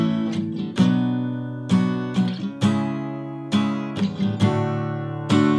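Acoustic guitar strums the second part of the verse of a song, moving down to the four chord, with a series of ringing strums at an easy, uneven pace, each decaying before the next.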